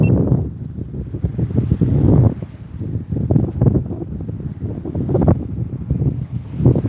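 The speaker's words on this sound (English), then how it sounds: "It's pretty windy out here" Wind blows across a saltwater fishing spot on the northeast Florida coast, a steady low rumble and microphone buffeting with gusts that swell and ease, no voices heard.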